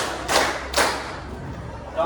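Hand claps given on spoken counting commands in a classroom-style drill, two sharp claps near the start and another at the end, with background voices and room noise between them.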